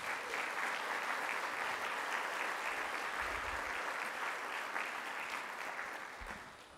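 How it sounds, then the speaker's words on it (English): Audience applause at a Hall of Fame enshrinement dinner for the inductees, a dense, steady clapping from a large crowd that holds evenly throughout before easing off slightly at the end. "a round of applause for all our inductees"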